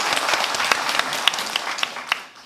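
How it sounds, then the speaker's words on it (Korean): A church congregation applauds the choir during an Easter Sunday service in Namyangju: brisk, close clapping with a few sharp individual claps standing out, tapering off at the end. "우리 카다시 찬양대에게 축복의 박수 하겠습니다"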